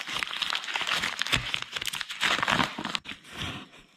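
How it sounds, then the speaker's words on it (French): Packaging crinkles, crumples and tears in close, busy bursts as a mystery parcel is unwrapped by hand, with a short pause near the end before more rustling. "Donc c'est parti, on déballe en direct."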